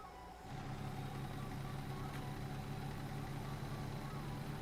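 A diesel truck engine in the American Truck Simulator game, a steady rough low rumble that starts after a brief quieter moment and holds continuously at a moderate level, with no talking.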